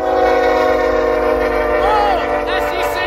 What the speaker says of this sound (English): Loaded ethanol train!